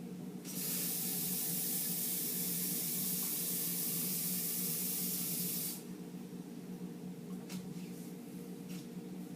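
Tap water rushing into a liquid measuring cup to the two-cup mark in a kitchen: a steady loud hissing spray for several seconds, then a softer splashing trickle as the flow is reduced.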